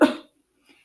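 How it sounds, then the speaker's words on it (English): A woman gives one short, sharp cough up close, then falls silent apart from a faint breath. "She coughed."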